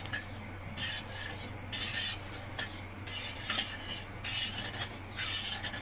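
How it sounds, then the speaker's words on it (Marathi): Cooked dal being mashed with a metal spoon in a pot, with repeated scraping and clinking strokes in bursts, close and fairly loud over a steady low hum. "डाळ जराशी बारीक करून घेऊया।"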